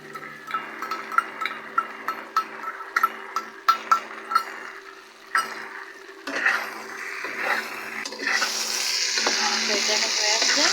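Chili chicken frying in a pan, with metal stirring taps and clacks, then a loud, rising sizzle as a sauce mixture of vinegar and a little sugar is poured in.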